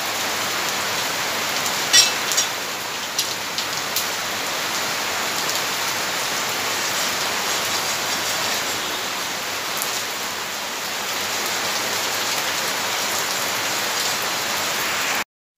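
Steady rain falls continuously outdoors during a rainy morning at home, a dense even hiss with a few brief drips or taps near the start and no talking.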